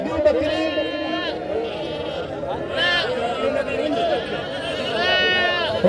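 Goats, including brown and Meghi breeds, bleat repeatedly in wavering cries at a livestock gathering, several calls rising over a busy background of people talking and moving about.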